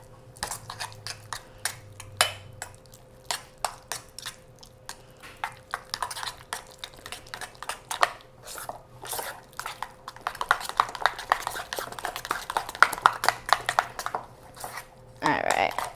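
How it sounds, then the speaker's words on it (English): A spoon works a ricotta mixture with egg around a bowl, making a string of clinking, scraping taps that grow busier toward the end, with a voice talking over the stirring. "mix that together"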